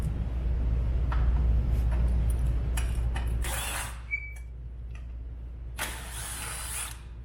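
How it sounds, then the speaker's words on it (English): Plastic and ratcheting clicks as a T40 driver removes the front plastic panel of a Pro R off-road vehicle, with a low engine rumble early on and brief scraping rustles later. "Using a T40 to remove the front plastic"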